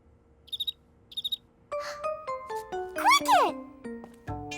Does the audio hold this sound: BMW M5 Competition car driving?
no